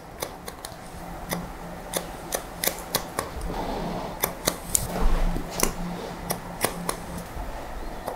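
Scissors cutting long curly hair in a salon, a close series of crisp snips at an uneven rhythm over faint room noise.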